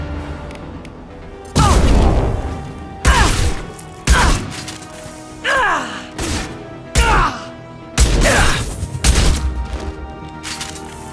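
Mass Effect 2 combat: heavy weapon shots and impacts land in about eight loud, separate bursts with brief silent gaps between them, each one booming and then trailing off.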